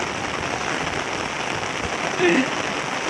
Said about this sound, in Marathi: पाऊस ना म्हणजे थांबवचं नावच घेत नाही आता जवळजवळ दोन तास पाऊस कंटिन्यू चालूच